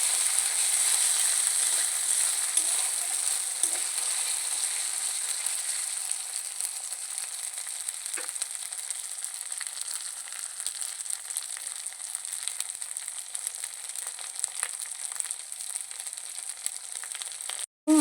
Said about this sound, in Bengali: ভালো করে ভেজে নেবেন নাহলে আদা রসুনের গন্ধ থেকে যাবে